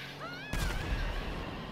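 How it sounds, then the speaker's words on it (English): A sudden loud explosion in GTA V Online cuts in after half a second, a heavy low boom with a broadband crash that lingers. It follows warbling, sweeping electronic tones. "I heard a massive explosion."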